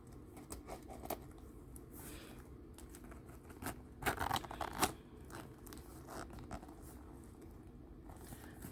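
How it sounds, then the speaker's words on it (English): Scissors cutting the strap off the key keeper of a Dooney & Bourke handbag: a short burst of close, crisp snips and crunches in the middle, set against quiet handling rustle. "Let me go ahead and cut the strap from the key keeper"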